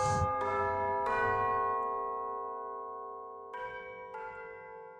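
Orchestral bells from the BBC Symphony Orchestra Discover sample library ring in clear, sustained struck tones, a few separate strikes each decaying slowly, fairly soft and alone.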